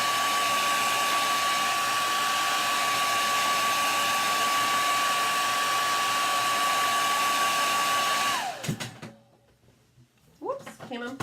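A hair dryer blows steadily and loudly while drying an upcycled thrift store frame, a constant whine for about eight seconds before it cuts out abruptly, followed by a few handling clunks and a voice.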